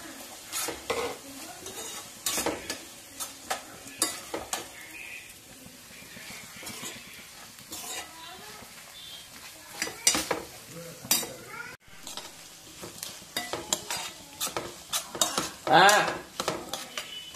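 Onions and butter stirred in a metal pan while making brinjal and peas curry: repeated scraping and clinking of a spoon against the pan over a soft sizzle of frying, steady and close throughout.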